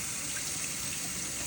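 A steady stream of tap water runs over dried sea moss in a sink, a continuous close splashing rush with no pauses.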